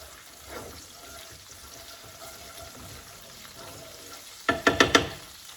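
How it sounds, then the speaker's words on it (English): Garlic sizzles in oil in a pan for a healthy pasta dish, a steady soft frying hiss, then a quick burst of four scraping stirs near the end. "We're going to add a little bit more garlic. Stir that around a bit."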